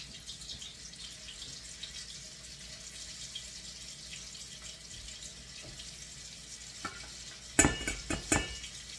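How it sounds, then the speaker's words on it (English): Oxtail browns in hot oil with a soft, steady sizzle that stays low and even, then louder clattering and stirring bursts come near the end. "Okay, it's ready. I'm just browning them."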